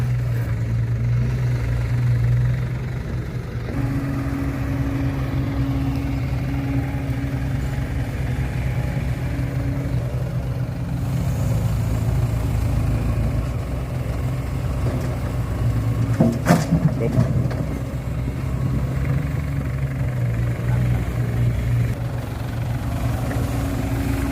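A Kobelco SK140 Super X excavator engine idles steadily nearby, a continuous low drone with a brief mechanical clank partway through and no talking.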